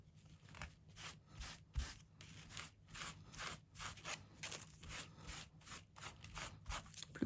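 A foam cleaning sponge scrubs a surface in steady back-and-forth strokes, a close, rhythmic rasping repeated many times with a faint low hum underneath.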